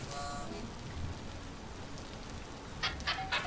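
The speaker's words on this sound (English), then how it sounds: "it's constantly raining here" Steady rain in the video game Vintage Story, a continuous broadband patter of drops hissing evenly throughout, with a few brief brighter clicks near the end.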